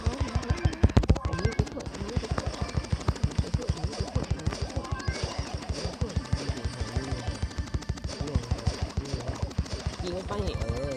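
Rapid automatic gunfire in the Brawl Stars video game, a dense continuous stream of shots in bursts, with a player's voice talking over it.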